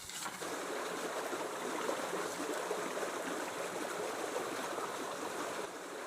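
Irrigation water runs steadily along a channel in a pomegranate orchard garden in Taft, Yazd, giving a continuous close rushing and trickling wash with no voices.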